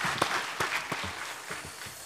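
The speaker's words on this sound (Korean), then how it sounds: "영광의 박수를 하나님께 드리겠습니다" A church congregation gives brief applause during a worship service, a short scattered patter of claps with distinct individual hits, moderately loud and fading quickly.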